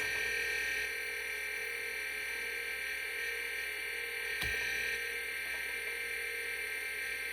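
Steady high electronic whine and hum of spinning hard drive heads in a Hyundai 286 computer, constant and unbroken, with one brief click partway through.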